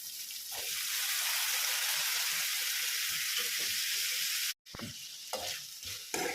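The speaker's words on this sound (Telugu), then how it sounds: "ఇప్పుడైతే మనం ఆలు ముక్కలు కట్ చేసుకున్న ఆలు ముక్కలు వేసుకుంటున్నాం" Cut potato pieces sizzle loudly in a hot pan for a curry, a steady frying hiss with stirring scrapes throughout, briefly cut off and then resuming with clinks and spatula knocks.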